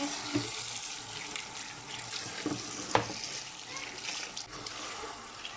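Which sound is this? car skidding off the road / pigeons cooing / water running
water running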